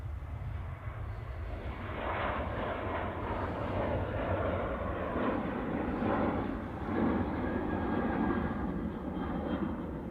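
A departing jet airliner climbs away from Manchester Airport into cloud, its broad engine roar steady and loud throughout, rumbling with a faintly fluctuating texture and no voices.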